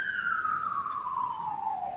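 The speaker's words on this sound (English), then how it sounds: "there's a lot of police cars today. Something's going on." A police car siren wails in a long, slowly falling tone, loud and fairly close, as though the vehicle is passing and drawing away.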